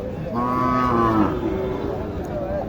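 A Sahiwal bull lowing at a rural cattle market, with one loud close drawn-out moo lasting about a second amid general market background noise.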